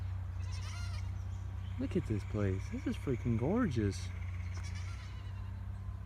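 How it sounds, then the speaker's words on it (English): Small goats bleat in a quick burst of wavering cries at close range outdoors, partly overlapping a person speaking over a steady low background hum. "I found goats. Look at the little goats. They're trying to talk to me."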